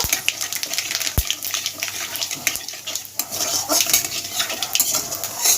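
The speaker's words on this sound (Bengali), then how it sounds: "এক টুকরো জৈত্রী ছোটো চামচ আর হাফ চামচ মৌরি দিয়ে একটু ভেজে নেব" Mace and half a spoon of fennel seeds, with cloves, frying in oil in a pan, heard as a bright, steady crackling sizzle close by, broken by a sharp metal clink early on and scattered spoon scrapes.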